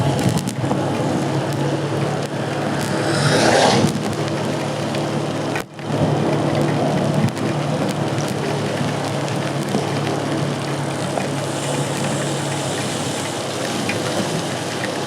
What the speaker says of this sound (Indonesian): Hujannya terus sangat lebat.